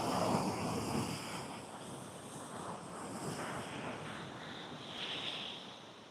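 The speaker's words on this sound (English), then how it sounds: "You can probably see the waves are starting to get a bit more choppy with the incoming tide." Choppy sea waves rise with the incoming tide, a steady faint wash and rumble of water mixed with wind noise, with no voices.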